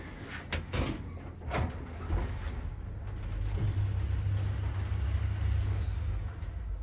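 An old Morris Vertaport lift in Stratford-upon-Avon has its doors slowly sliding open: a few clunks, then a steady mechanical rumble and whir building over several seconds, nearby with no talking.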